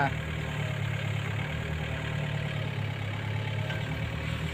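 A Komatsu PC40R-8 mini excavator's diesel engine runs at a steady idle-like drone while scooping, continuous and close, with someone talking over it.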